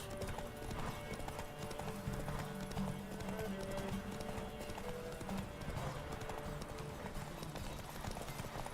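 Roach the horse galloping in The Witcher 3, a fast steady clip-clop of hooves running on without pause, faint and even throughout.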